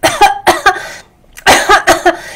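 Several sharp coughs, close and loud, come in two bursts of two or three each, separated by a brief quiet pause.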